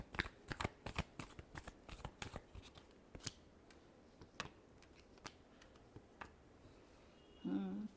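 Tarot cards are shuffled in a series of quick, crisp riffles and taps, close and fairly faint, with a brief soft voice at the very end.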